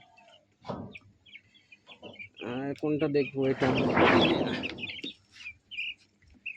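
Chickens chirp in thin, high, scattered peeps throughout while a person speaks close by.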